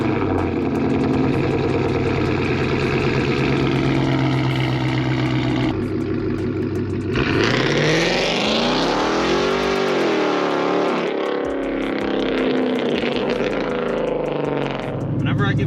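A Mustang GT with a very loud aftermarket exhaust roars close by as it pulls away, the engine note rising and falling through gear changes, with people talking over it.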